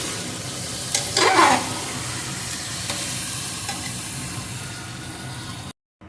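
Chicken frying in a pan gives a steady close sizzle and hiss, with a brief louder burst of stirring and spatter early on. It keeps going at an even level, then cuts off abruptly near the end, with no talk.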